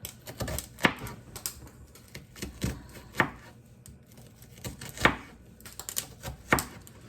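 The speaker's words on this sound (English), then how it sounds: "So I'm just going to do my dice." A knife dices food on a cutting board in quick, steady taps, close and crisp with occasional harder chops, while preparing salmon with goat cheese orzo.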